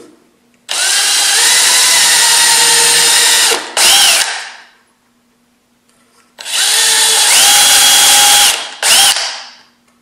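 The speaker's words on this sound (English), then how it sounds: "Drill my holes." A power drill boring holes while building a cat car box, two loud sustained whining bursts of about three seconds each, each ending with a short extra burst and spin-down, separated by a quiet pause.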